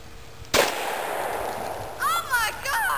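A single loud gunshot from a shouldered gun fired outdoors, a sharp blast followed by a decaying rumble, with a few short exclamations from people nearby afterward.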